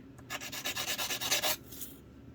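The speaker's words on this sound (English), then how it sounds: "So here's where we sand things up." Sanding on a 4G vehicle modem antenna solder joint: a quick run of about a dozen rhythmic rasping strokes, close and fairly loud, then stopping and leaving quiet room tone.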